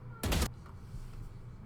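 A short gun burst in the tactical shooter Valorant, a single loud, close cluster of shots lasting about a quarter second, then quiet game ambience.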